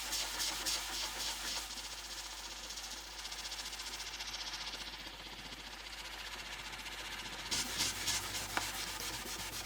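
Magic eraser scrubbing the cabinet of a Telefunken Operette 6 radio, quiet rhythmic rubbing strokes repeating steadily, close and soft.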